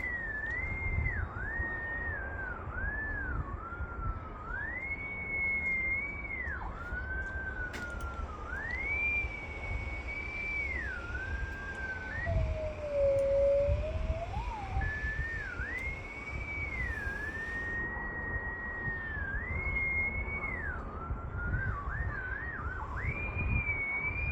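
A direction-finding receiver on electronic warfare equipment emits a warbling electronic tone in search mode, rising and falling steadily in pitch throughout, moderately loud over a faint background rumble, with no talking.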